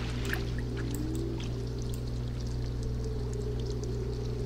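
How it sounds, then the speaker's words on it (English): A sample of ocean water is collected at the shore in The Sims on a tropical island, giving a soft, steady watery pouring sound over a constant low hum, fairly quiet and without voices. "Let's take a sample of ocean water."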